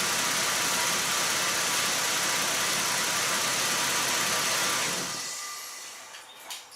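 A car engine with a cylinder misfire idles in a steady, loud drone, then is switched off and fades away near the end.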